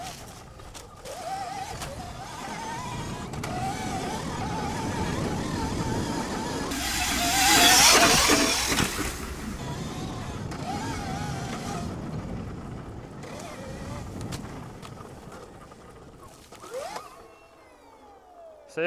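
Electric dirt bike accelerating while riding, a steady whine with wind buffeting the microphone, surging louder in the middle before easing off, with a brief rising tone near the end.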